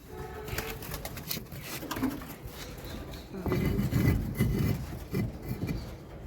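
Pigeons coo in soft, low, repeated calls inside a loft compartment with young chicks, with rustling and handling noises close by and a brief voice.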